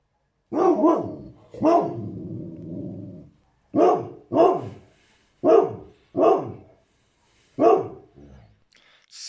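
A pet dog barks several times, close and loud, opening with a drawn-out bark and following with a run of sharp single barks spaced by short pauses.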